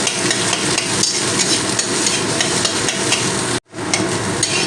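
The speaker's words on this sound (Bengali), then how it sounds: "ছোট ছোট টুকরো করে নেব খুন্তি মেরে মেরে" A metal spatula chops a salted fried egg into small pieces in a hot kadai, a steady, busy clatter of rapid strikes over frying sizzle, briefly cut off near the end.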